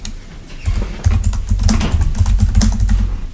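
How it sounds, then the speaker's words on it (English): Fast, furious typing on a computer keyboard: dense, rapid clacking keystrokes in quick irregular bursts, close and fairly loud, with no voices. "I was furious typing."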